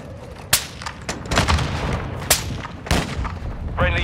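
Grenade blasts and gunfire in Call of Duty: Modern Warfare II, with several sharp, loud explosive bangs spaced a second or so apart over a steady combat din, ending in a rising electronic tone.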